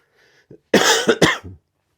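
Two loud, close coughs in quick succession, followed by a softer throaty sound, in an otherwise quiet room.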